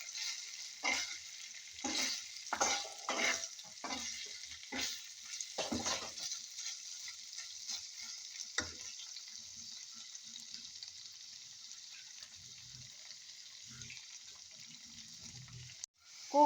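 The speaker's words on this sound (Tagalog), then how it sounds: "Cooking chicken tapa, marinated breast chicken." Marinated chicken breast tapa sizzles in a pan over low heat, a steady frying hiss broken by scraping stir strokes early on that fade to a quieter, continuous sizzle.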